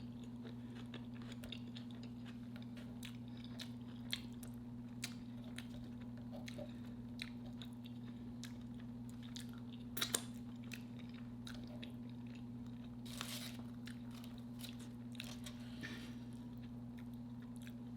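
Someone eating homemade chili cheese dogs with onions, close chewing and soft squishy bites at a steady pace over a loud constant electrical hum, with a few sharper crunchy clicks and no talking.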